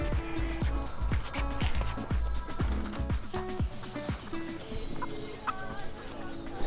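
Chickens cluck and squawk close by on a busy street in South Florida, with repeated sharp calls and some background clatter.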